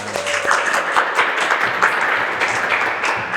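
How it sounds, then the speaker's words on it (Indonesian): Students and staff applaud together at a vocational high school podcast event, dense continuous clapping from a group, close and fairly loud, with a brief voice at the start. "tepuk tangan kita semua"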